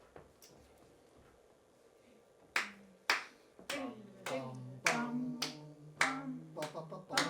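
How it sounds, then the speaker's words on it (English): Musicians in a string quartet rehearsal clap their hands in rhythm, with a quiet room at first and then a steady run of sharp claps whose pitched ringing lingers between them. "You lead the clapping again, same spot."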